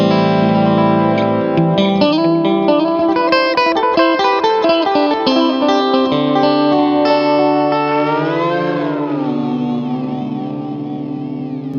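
A Dawner Prince Boonar Tube Deluxe echo pedal fed with drums and a melodic line, whose repeats audibly speed up and slow down, with the delayed pitches warping and smearing into a wobbling, reverberant wash that gradually fades.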